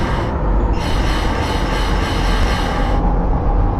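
Train pulling into Suzaki station in the Train Crew railway game, a steady loud rumble of wheels and carriage noise with a faint squeal, continuous throughout.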